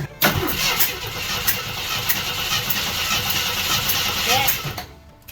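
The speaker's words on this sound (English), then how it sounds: "Now crank it over." A 1976 AMC Gremlin engine cranks over on the starter during a compression check, a loud rhythmic churning that runs for about five seconds and then stops abruptly.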